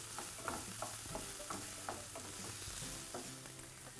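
Spices such as cinnamon and cumin cook in a hot pan, giving a steady sizzle with repeated stirring scrapes and clicks throughout, close and continuous with no talking.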